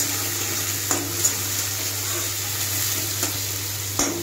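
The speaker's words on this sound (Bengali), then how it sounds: "এরপর টমেটো ছেড়ে দেবো এর মধ্যে। টমেটোটা একটুখানি ভেজে নিয়ে" Tomatoes added to browned onions fry in a pan for an egg curry, giving a loud continuous hiss of sizzling oil with a few brief stirring clacks, close by and without talk.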